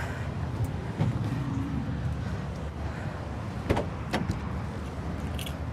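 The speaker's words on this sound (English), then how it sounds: "So you have the 180 doors, so it can completely open up there." The 180-degree rear doors of a 2022 Antero Bamaga 4X4 camper trailer are swung open, giving faint latch clicks and thuds, including a sharp knock near the end, over quiet outdoor background noise without talk.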